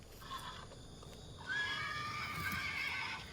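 A horse whinnies near a stone cave site, a faint, distant, drawn-out neigh that rises midway and carries over quiet background hiss.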